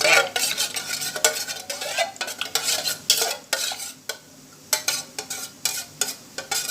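Coconut milk mixed with tapioca starch stirred briskly with a spoon, continuous loud scraping and clinking against the bowl in uneven strokes, close up with a brief pause midway and no speech.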